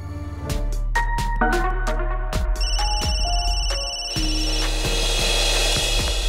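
A phone rings for an incoming call, its electronic ringtone repeating in a bright melodic pattern over a deep pulsing bass, loud and close with no voices.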